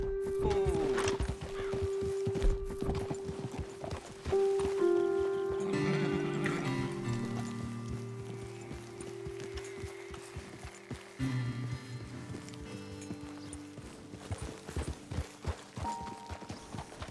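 Horses in Red Dead Redemption 2 whinny loudly and snort while their hooves clip-clop over uneven ground, with a game music bed underneath and a few heavier steps.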